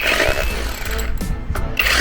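A Keelat cordless hammer drill bores into cement, giving a loud close grinding whine with rattling hammer action that briefly drops out twice before resuming.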